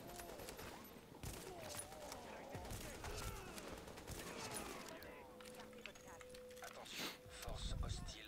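Bursts of automatic gunfire and scattered shots from the Tom Clancy's The Division shooter game, steady and busy throughout, with game effects and voices mixed in.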